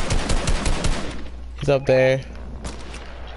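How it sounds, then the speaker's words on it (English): Rapid bursts of gunfire in a multiplayer shooter video game, a quick volley of sharp shots up front followed by a louder burst and some scattered pops, while players talk over it. "Dude, gunshots!"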